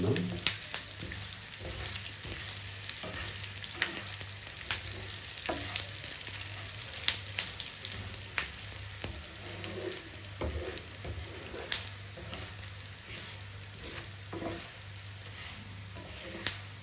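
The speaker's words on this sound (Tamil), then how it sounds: "இந்த எண்ணெயிலே கொஞ்சம் வறுத்து எடுத்துடலாம்." Coriander seeds roasting in hot oil in a pan, a continuous close sizzle with light scraping stir strokes and crackles scattered throughout, no talking.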